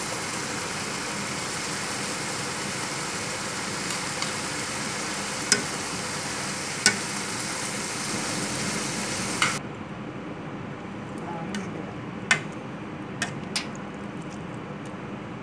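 Minced pork and mushrooms fry in a pan with a constant, fairly loud sizzle. Spatula clicks and scrapes punctuate it, and the hiss softens after about ten seconds.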